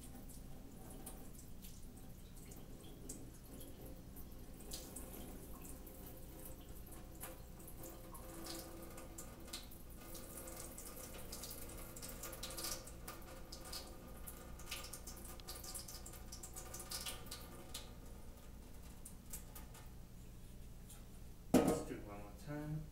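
Rice gets swirled and rinsed by hand in a bowl of water at a kitchen sink while cooking Persian rice: soft sloshing and trickling runs steadily under a person talking, with a brief sharper splash near the end.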